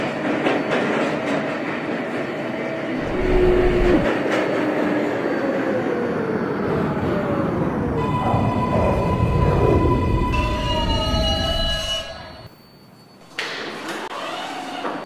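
An R142A subway train in the Hmmsim 2 game runs along the 6 line, a loud continuous rumble with rising motor whine, sustained tonal hums, brief rail clatter, and a short quieter dip near the end before the running noise resumes.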